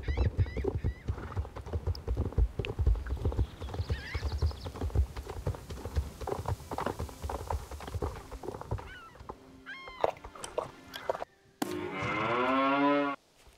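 Horse hooves clip-clop in a steady rhythm while riding through Star Stable Online, with cattle-like mooing and a whinny toward the end, loud and close with no talk over them.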